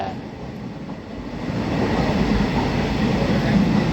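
A train rumbles along the Konkan Railway tracks, a broad steady roar that swells louder over a few seconds, with no voices.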